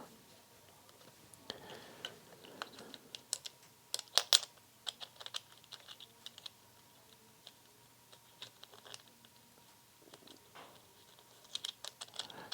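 Small metal nuts are finger-tightened onto guitar pots in a quiet room, giving sparse, faint clicks and ticks in irregular bursts, with a few sharper taps.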